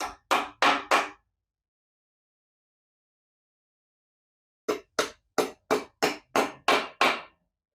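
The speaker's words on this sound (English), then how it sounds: "Just take that and hammer it into place." Dowel pins are hammered into the deck of a 5.4L engine block with sharp metallic blows, four quick strikes, a pause, then a longer run of about nine evenly spaced hits, loud and close.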